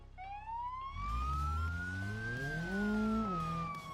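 In a video game, a Subaru police car's synthetic siren wails up and down in a steady electronic tone, loud and close, over a low engine rumble.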